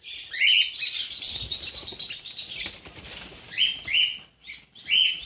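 Birds flap their wings loudly in an aviary holding a cockatiel chick, with bursts of close wingbeats and bright chirps and tweets repeating over several seconds.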